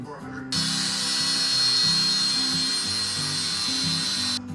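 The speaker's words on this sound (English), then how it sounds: "I'm going to take the flapper to it, see if we can grind it on down to where it's even with the tape" An angle grinder fitted with a flap disc grinds down the end of a new threading tap. The high whine starts suddenly and holds loud and close for about four seconds, with lower rumbling tones shifting beneath it before it cuts off.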